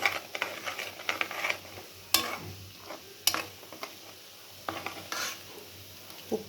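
Garam masala fries in hot oil in chicken pickle, with a sizzle beneath repeated sharp scrapes and clinks of a spoon stirring against the pan, close and uneven in rhythm.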